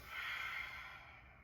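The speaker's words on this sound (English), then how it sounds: "out through the nose. Nasal breathing." A single slow, steady exhale through the nose, close and soft, during a back-pulling exercise in a strength and conditioning workout.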